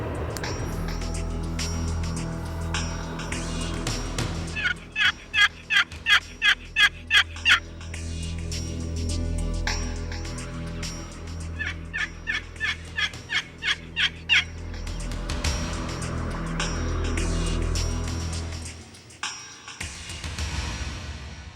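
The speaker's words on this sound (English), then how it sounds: "We heard a gobble that was kind of out in here." A wild turkey gobbles twice at a distance in Nebraska, each a rapid burst of throaty warbling notes, with quiet outdoor ambience in between.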